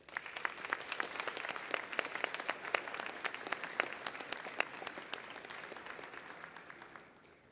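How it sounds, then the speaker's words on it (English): An audience at a commencement ceremony claps steadily, many hands applauding together at moderate distance, holding for several seconds before fading out. "Students, please give your families a round of applause."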